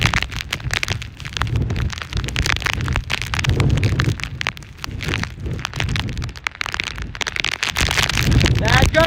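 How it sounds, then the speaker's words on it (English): Hurricane Ian's landfall brings violent wind gusts that batter the microphone with loud, surging roars and buffeting, rising toward the end, while someone shouts over the storm. "Bad gust, guys. It's a bad gust right here."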